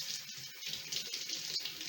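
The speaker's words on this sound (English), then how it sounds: "And then we're going to give them a quick rinse with cool water." Cool tap water runs into a jar of sprouting seeds as they are rinsed, a steady close hiss and splash throughout with no talking.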